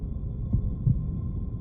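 Heartbeat from the video game Last Evenings on Earth: low, muffled thumps pulse at a steady rhythm over a constant droning hum, moderately loud and close, with no voices.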